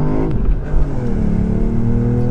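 A Ford Puma ST engine revs hard inside the car, its note climbing and stuttering against the rev limiter in a loud, close, buzzing drone.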